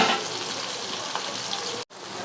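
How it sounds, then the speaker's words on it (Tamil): Onions sauté in a pan for quail gravy with a steady, dense sizzle up close, broken by one short silence near the end, with no talk. "வெங்காயம் வந்து நல்லா வதக்கி விட்டுக்கலாம் ஃப்ரெண்ட்ஸ்"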